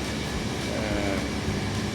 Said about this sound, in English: Second train of the day from Rome to Tarantola Cortona.